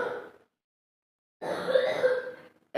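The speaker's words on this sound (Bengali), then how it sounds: "এখন কাশি দিচ্ছিস" A close, raspy cough, a short silence, then a longer rough coughing fit, with no talking.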